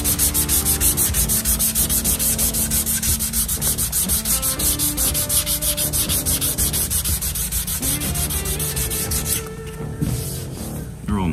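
Close, rhythmic block sanding works orange peel out of fresh paint on a Chevy C10 truck cab. The strokes rasp back and forth steadily for about eleven seconds, with a brief lull near the end.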